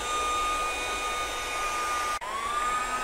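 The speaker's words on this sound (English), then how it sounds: "This is VaBroom, which is a broom with a built-in vacuum." A VaBroom, a broom with a built-in vacuum, runs with a steady, loud motor whine and airy hiss that continues throughout, dipping once for a split second, with no voices.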